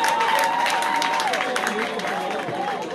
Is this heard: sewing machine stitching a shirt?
no